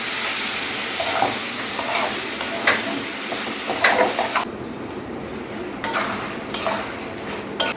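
Beef tripe stirred and fried in a pan in a home kitchen, a steady sizzle with scraping and stirring clatter from a utensil against the pan, close and continuous with no talking.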